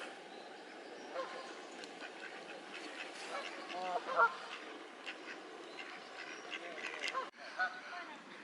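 Canada geese, just fed at a park lake, honk and call in scattered bursts that are mostly moderate and rise louder now and then against a steady background.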